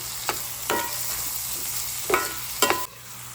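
Onions frying in a pan with half a teaspoon of salt, a steady low sizzle broken by several sharp scraping stirs of the spatula, close and alone with no voices.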